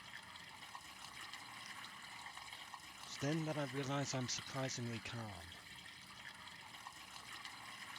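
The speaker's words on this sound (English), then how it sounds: "I walk up to the tub and turn off the faucet." A bathtub faucet runs with a steady, soft stream of water beneath a calm narrating voice in a visual novel game, the pouring hiss continuing faintly throughout.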